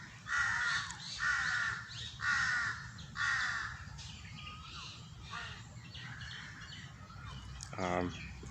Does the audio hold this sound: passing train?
no